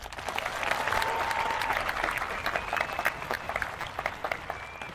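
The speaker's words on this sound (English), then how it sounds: "Please give them a round of applause." A crowd at the PWHS 2025 high school graduation applauds the staff, sustained dense clapping from a large audience that swells early and then continues with looser, more scattered claps, heard from a distance.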